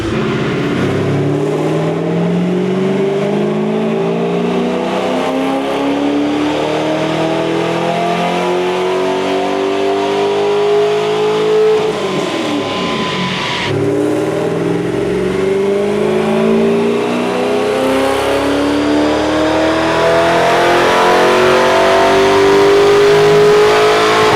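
A C5 Corvette engine revs through a full dyno pull, a loud close roar climbing steadily in pitch, briefly dipping at a shift midway, then rising again to the end with no talk.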